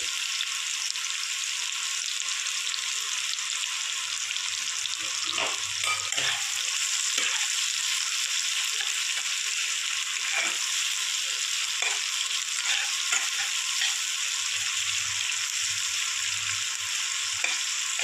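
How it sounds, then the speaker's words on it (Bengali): Four large chopped onions fry in a pan for a potato-and-egg mash, giving a steady, close hiss of sizzling oil with scattered crackles and occasional stirring scrapes throughout. "পেঁয়াজটা আমি একটু ভেজে নেব।"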